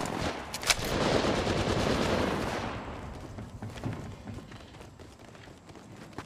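Gunfire in the battle royale Apex Legends Mobile: rapid automatic bursts, loud and close, packed into the first few seconds, then thinning into sparser shots and movement noise.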